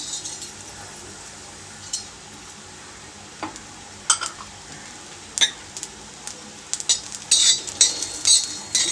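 Garlic and coriander seeds frying in a pan for chicken fry, stirred with a utensil that gives sparse, faint clinks and scrapes. A soft sizzle swells toward the end.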